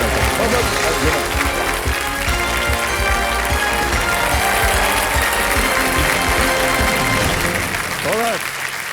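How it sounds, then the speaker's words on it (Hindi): A studio audience on the KBC quiz show applauds a contestant with loud, sustained clapping that fills the room throughout, and a voice comes through near the end. "The big hand for Krishna Satyaprakash जी। बहुत बहुत तालियां"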